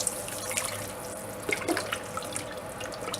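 Beef stock pours from jars into a soup pot, five quarts in all, a steady liquid splash and trickle at moderate level with no talking.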